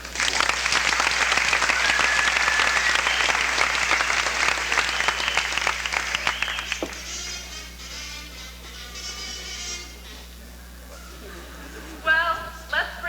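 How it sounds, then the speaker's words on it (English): An audience at a live faculty night show bursts into loud, dense applause that fades after about seven seconds, with murmuring voices and scattered sounds following. "Let's have a round of applause for Dawn."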